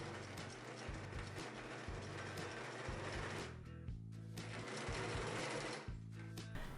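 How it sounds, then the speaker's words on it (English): A sewing machine stitching shirt sleeves onto the body of a refashioned men's shirt, a continuous close mechanical whirring and rhythmic needle clatter that briefly slows and pauses before running on. "Sew the sleeves to the body of the shirt."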